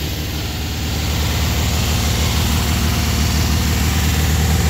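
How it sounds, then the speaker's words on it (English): A 1969 Volkswagen convertible's engine idles steadily and close by, a low throbbing hum with even vibration and no other sounds. "You might hear a difference in the smoothness of the engine."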